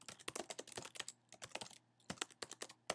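Quiet, close typing on a computer keyboard, a rapid irregular run of key clicks in short bursts with brief pauses between them.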